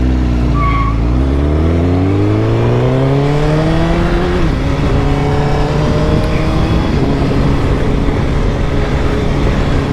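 A 2018 Honda CBR1000RR SP sportbike with a long Akrapovic exhaust pulls away and accelerates, engine pitch climbing through the revs before settling into a loud, steady riding roar with wind noise.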